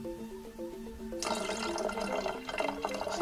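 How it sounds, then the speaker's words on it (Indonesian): Liquid poured into a container up to a fill line, a steady watery gush starting partway through over faint background music, running continuously to the end. "tuangkan saja"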